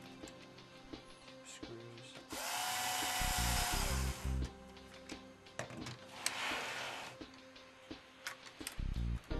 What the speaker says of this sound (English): And replace the 2 screws on either side.